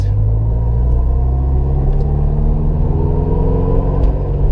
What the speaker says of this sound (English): the Supercharger sounds wonderful. I like that nice whine noise to it